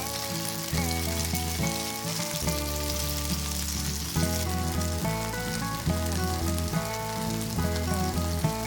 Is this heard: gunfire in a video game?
no